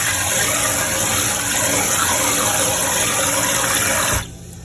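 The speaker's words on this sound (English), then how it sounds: "Turn the water on. And then you just pour the water like that." Tap water gushes steadily into a pot of rice being washed, a loud, continuous rushing that stays close and even before cutting off abruptly near the end.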